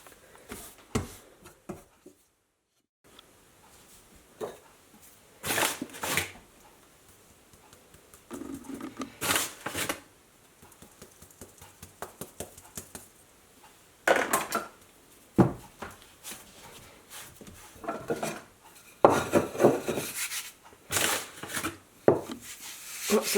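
A rolling pin works pastry for mince pies on a floured surface, with intermittent wooden rubbing, dull thumps and clinks of utensils against a tray, quiet and close, separated by pauses.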